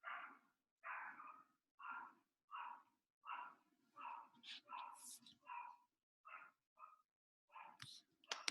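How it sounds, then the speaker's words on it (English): A dog barks repeatedly in the background, about a dozen evenly paced, moderately loud barks with a few higher yips near the end. "I don't know if you can hear a dog barking in the background."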